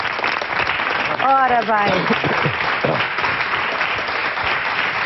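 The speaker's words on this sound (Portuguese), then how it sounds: "Um aplauso para eles" Applause from a television studio audience on a Portuguese daytime variety show, with a voice speaking briefly over the steady clapping near the start before the crowd keeps going.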